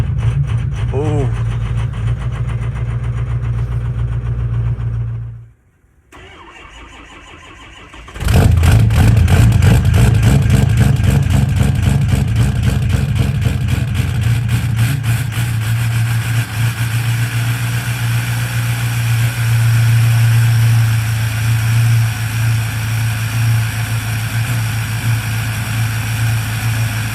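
A straight-piped diesel truck idles loud and close at 20 below freezing, cuts out for a few seconds, then roars back into a rough, rattling, uneven cold idle that stays loud to the end.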